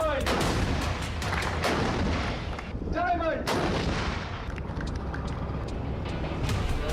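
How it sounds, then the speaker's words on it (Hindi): A 155 mm self-propelled artillery gun fires repeated heavy booming blasts in a dense, continuous barrage, loud and close, with rumbling echoes between the shots and no talk. "ये 155 मिलीमीटर की सेल्फ प्रोपेल्ड आर्टिलरी है।"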